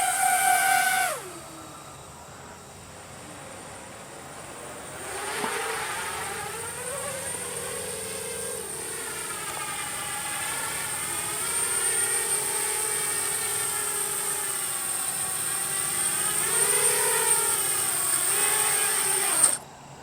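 An FPV drone with AOKFLY FR2205 2300KV motors punches straight up, its high whining motor pitch swooping and warbling as the throttle changes, loud at first, then fading and rising again before cutting off.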